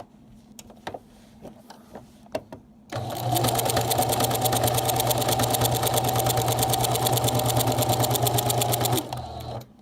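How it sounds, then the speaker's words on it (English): A sewing machine stitches two quilt squares together, starting after about three seconds with a loud, steady motor whir and rapid needle chatter that runs continuously for six seconds, preceded by a few soft handling taps. "so you're not sitting there being tortured by me sewing these two together"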